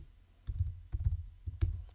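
A computer keyboard is typed on at close range to enter a command in a terminal, producing soft, low clicking key strokes in a few irregular clusters, with no talking.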